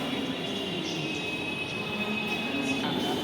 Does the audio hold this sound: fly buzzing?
no